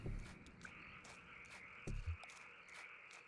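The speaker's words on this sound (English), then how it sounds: "I hear frogs." Frogs croaking in the night ambience of the video game Kentucky Route Zero, a few low throaty croaks standing out briefly over a steady insect-like drone, fairly faint and without any voices.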